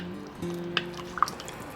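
Pork menudo with added water is stirred in a pot, giving a few wet drips and a soft liquid slosh over a low steady kitchen hum. Two close drips stand out, with no talking.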